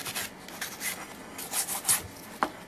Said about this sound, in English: So now we need to do a light sanding.